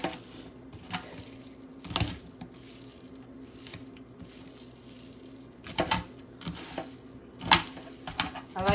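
Hands squishing and breaking up seasoned ground beef in a kitchen sink, with soft wet squelches and occasional sharper clacks against the basin, moderately close and mostly quiet with a few louder bursts.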